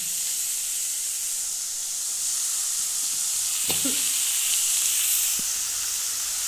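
Onions and tomatoes sautéing in oil in a pan, giving a steady, bright sizzle and hiss throughout, with a few faint clicks of a utensil near the middle.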